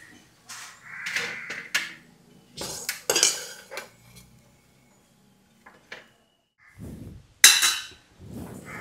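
Food being lifted and placed on a plate in a home kitchen: clinking dishes and utensils in scattered bursts, a quiet gap, then a sharp metallic clatter near the end.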